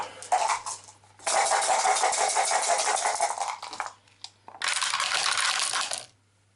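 Five dice rolled for an Arkham Horror board game rattle and clatter in two long bursts with a brief pause between, close and fairly loud, with no talking.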